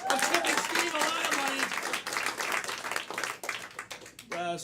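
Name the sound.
audience clapping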